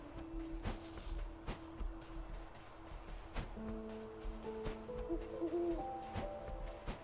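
Video game owl from Death's Door hooting in a steady low call, repeated over ambient game sound with soft rustles and footsteps, then shifting to a higher tonal chime-like sequence midway.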